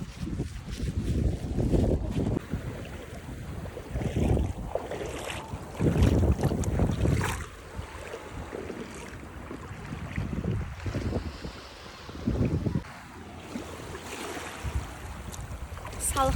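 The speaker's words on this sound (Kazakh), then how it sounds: "Жел бізде." Wind gusts over open water at a lakeside or seaside swimming spot on a late-summer Sunday, a steady rough buffeting roar with swelling surges and faint lapping waves, close and moderately loud.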